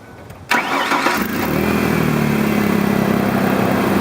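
A truck engine cranks and fires up, with a sharp close burst that settles into a steady, rumbling idle that continues to the end.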